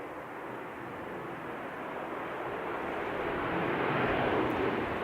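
An aircraft coming in on runway 29 past a windsock at the Canterbury Aero Club on a nor'wester day, a broad rushing engine roar that builds steadily louder as it nears.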